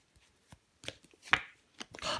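Tarot cards are laid down onto a table in a quiet room, giving several soft, close slaps and brief sliding shuffles, with a slightly longer rustle at the end.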